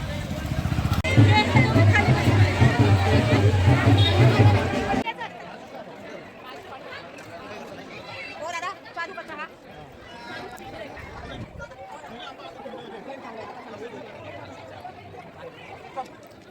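Dense crowd chatter at the Jejuri fort pilgrimage site, a loud babble of many voices for the first few seconds, then dropping to a quieter, distant hubbub of people milling about.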